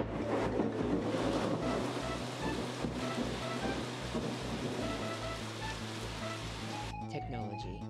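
Steady rain pours with low rumbling thunder underneath throughout a thunderstorm, under a continuous low hum and background music.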